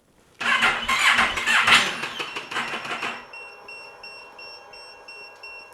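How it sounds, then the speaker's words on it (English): Motorcycle electric starter cranking on a sodium-ion battery, a loud whirring grind lasting about three seconds before cutting off, leaving a faint electrical whine. "So let's hit that starter and see how quickly it starts."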